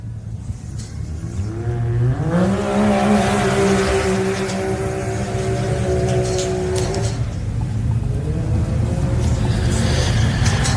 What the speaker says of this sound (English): As the Heaslip 999 car underway, the ex-Trevor Copeland machine